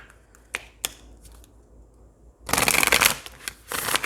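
A deck of tarot cards is handled, with a few light taps and flicks, then loud, close riffling bursts of shuffling near the end.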